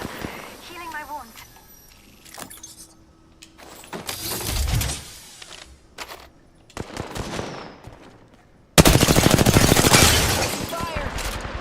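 Bursts of automatic gunfire in a squad-based shooter video game, loud rapid volleys with gaps between them, under occasional voice chatter.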